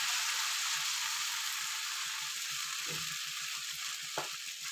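A ghavane rice-flour pancake cooks on a hot pan with a steady, hissing sizzle that stays even throughout, broken only by a couple of faint utensil taps near the end.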